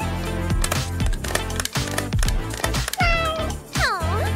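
Cartoon cat meowing repeatedly in an animated scene, several clear drawn-out meows over a dense, loud background of music and effects, with the final cries rising and bending in pitch.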